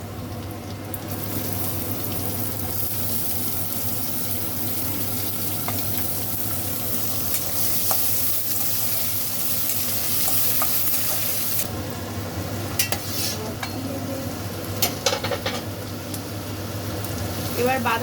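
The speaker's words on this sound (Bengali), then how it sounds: "আদা রসুনটা একটু হালকা হাতে নেড়ে নেবো, বেশি ভাজা ভাজা দরকার নেই" Ginger and garlic are stirred and fried in a pan for a vegetable rice-sheet momo filling, giving a steady close sizzle broken by light scraping and stirring strokes throughout.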